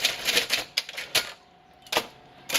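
Royal Academy manual typewriter typing up close, a quick run of sharp key strikes, a short pause, then more isolated clacks.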